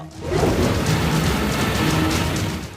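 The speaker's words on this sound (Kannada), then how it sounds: "ಧಾರಾಕಾರ ಮಳೆಗೆ ರಸ್ತೆಗಳು ಜಲಾವೃತ." A torrential downpour over flooded Bengaluru roads roars as a dense, continuous hiss of heavy rain, with a low rumble underneath, loud and steady throughout.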